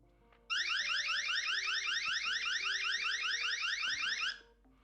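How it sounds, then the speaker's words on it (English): A security camera's loud electronic alarm siren warbles in a fast, steady repeating pattern for about four seconds, then cuts off abruptly. "So it's a pretty loud alarm."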